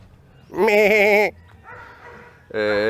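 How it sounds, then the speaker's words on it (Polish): A goat bleats loudly twice in wavering, quavering calls, with a fainter rough sound between them, close by and fairly clear. "O, koza jest. Cześć, koza."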